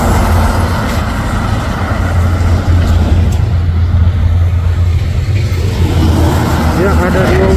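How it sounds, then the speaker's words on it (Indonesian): A loaded Hino trailer truck climbs a steep hill, its engine a loud, steady, continuous roar close by that holds throughout with little change. "Dan yang dari atas tanjakan trailer Hino Isoteng."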